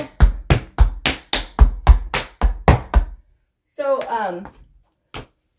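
Tap shoes strike a hard floor in Broadway, flap and heel steps, giving about a dozen crisp, evenly spaced taps in a quick steady rhythm, followed by a brief voice and one final tap.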